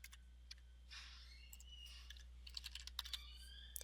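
Quiet bursts of key taps on a computer keyboard, irregular then quickening into a short run of sharper clicks near the end, close and alone over a low hum.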